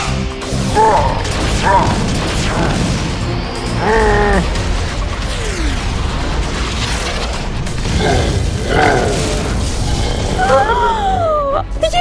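Loud, busy cartoon battle effect for a car robot's rocket punch, with whooshes, mechanical clanks, descending and rising synth zaps and crashing booms, mixed with animated character voices.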